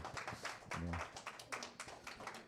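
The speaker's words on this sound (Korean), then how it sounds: "유난히 좀 박수를 크게 치는 사람이 한 명 있네요" A church high school group claps during a Sunday service, a scattered run of hand claps with one person clapping noticeably louder than the rest, with some faint talk underneath.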